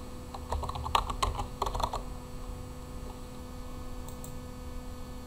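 A computer keyboard clatters in a quick cluster of close keystrokes, then falls to sparse isolated taps over a steady electrical hum, with no speech.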